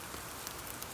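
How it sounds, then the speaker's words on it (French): Raindrops patter steadily on a surface in a soft, continuous wash with a few brighter drips standing out, a gentle rain effect for a children's audiobook about a little mole. "la pluie est entrée dans les terriers. Pic-ploc, pic-ploc, pic-ploc,"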